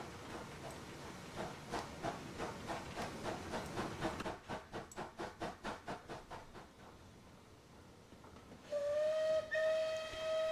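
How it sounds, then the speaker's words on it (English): In Train Simulator 2020, a Merchant Navy Clan Line steam locomotive chuffs in rhythmic exhaust beats that quicken and fade, then its whistle sounds a sustained clear tone near the end, with no one speaking. "Oh no, that's not my favourite whistle."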